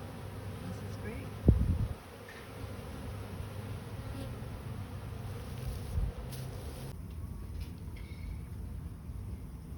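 Steady buzzing of bees around flowers outdoors, with a brief louder rustle or bump near the start, all under faint background noise.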